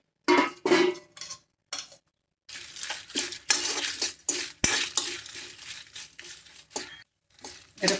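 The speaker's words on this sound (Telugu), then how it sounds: "మనం ఇప్పుడు మిరపకాయలు వేసి బాగా వేయించుకోవాలి" Chillies being stir-fried in a kadai with a spoonful of oil: intermittent bursts of a spatula scraping and clinking against the metal pan, close and fairly loud, with only a faint frying hiss between strokes.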